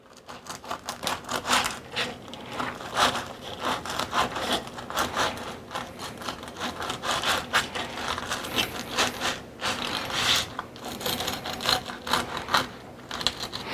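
Dense, crackly scraping crunches of a knife sawing through a crisp-crusted loaf, close and steady, with sharper crackles scattered throughout and no talking.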